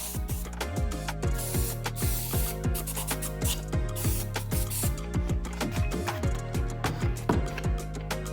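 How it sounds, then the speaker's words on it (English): A spray can of mold release hisses in short repeated bursts, interrupted by rhythmic rattling and clicking, with a steady hum of machinery in the background. "Whenever you use epoxy, always spray mold release."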